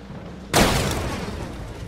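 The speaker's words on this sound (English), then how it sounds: "Building off my Destructible actor, I then implemented the explosion effects" A sudden explosion effect from a destructible object in a UE4 PS1-style game hits once as a sharp, loud boom, then trails off in a long rumbling decay over a low background.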